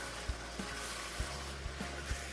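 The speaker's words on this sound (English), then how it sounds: "I'll stir up everything together until they are well combined." Cooked meat being stirred into a Nigerian tomato stew sauce in a pot, quiet wet sizzling with a few soft spoon scrapes and thumps at irregular intervals.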